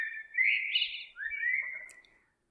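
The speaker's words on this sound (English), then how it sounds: "Mr. Blackbird. Listen to him tweeting. All sing-song, la-dee-da." A blackbird sings two clear, warbling phrases in a row, fairly close, with nothing else audible around it.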